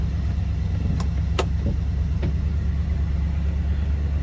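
A 1970 Buick Electra 225 sits with its AC compressor and blower fan running, a loud steady low rumble and drone filling the cabin, with a few faint clicks early on.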